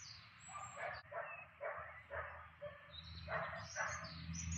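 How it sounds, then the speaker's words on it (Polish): A dog barks repeatedly in the distance, a series of short barks at irregular intervals outdoors over a steady background hum, with faint bird chirps. "Pies szczeka?"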